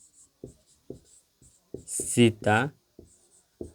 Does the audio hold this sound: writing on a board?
yes